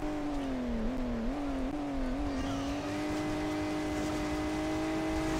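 Continuous engine drone of a car revving while racing uphill in the mobile game Hill Climb Racing 2, its pitch wobbling and stepping up through several shifts before settling into a steady loud whine throughout.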